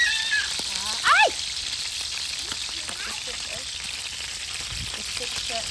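Galunggong fish frying in hot oil, a steady crackling sizzle with popping splatters throughout, close up, with brief voices and exclamations over it.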